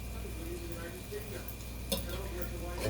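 Meat fries in olive oil in a cast iron skillet for a Philly cheesesteak, a steady soft sizzle running throughout, with a brief utensil clink partway and a faint voice underneath.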